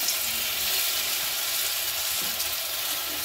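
Vegetables fry in a little hot oil in a heated wok, a steady bright sizzle that holds evenly throughout, with no talking.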